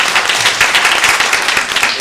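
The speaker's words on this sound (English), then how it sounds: "Let's get the applause in now." Audience at a panel on Illinois finances giving a round of applause, dense continuous clapping from a roomful of people at close range, steady and loud throughout.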